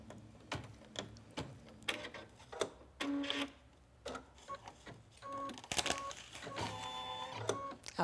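An embroidery machine finishes stitching a design onto a simple tee, giving rapid mechanical clicks and whirring bursts with short pauses in between, fairly quiet and close.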